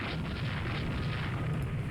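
Naval shell strikes and explosions in the warship video game Rule The Waves 2, a dense, continuous rumbling boom with no clear gaps, moderately quiet and heard alone.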